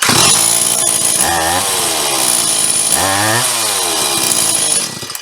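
Stihl MS 180 chainsaw running after a repair, a loud close two-stroke engine snarl held steady with two sharp revs up and back down, then settling before cutting off near the end.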